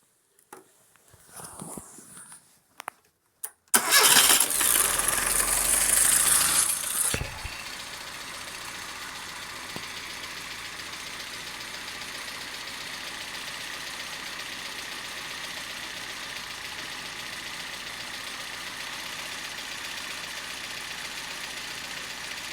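Small engine run up to about 900 RPM while a UNI-T UT373 tachometer reads its speed: a loud, rough burst of revving near the start drops into a steady, even idle that holds for the rest, with no talking.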